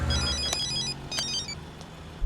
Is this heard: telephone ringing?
yes